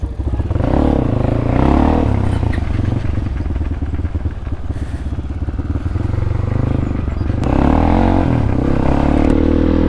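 Honda Crossfire motorcycle engine running loud and close, a continuous rough rumble that swells with throttle blips and revs, with a brief clatter along the way.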